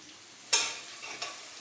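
Onions browning in a pan with biryani masala stirred in for chicken biryani, heard as a faint, brief sizzle with a soft scrape and a couple of light stirring clicks.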